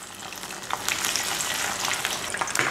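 Beef sizzling steadily in a hot pan, fried briefly for dendeng batokok, a continuous close crackle with no talk.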